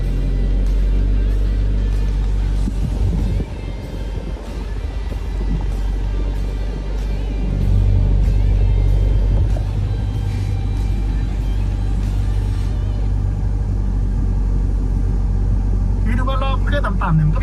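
An Isuzu V-Cross 4x4 pickup climbs a steep hill with a sustained low engine rumble that swells in places. Someone talks over it, and light mechanical clicks come near the end.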